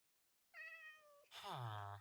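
A cat meows in a long drawn-out call, then a second louder, lower meow follows straight after, both close and clear with no talking.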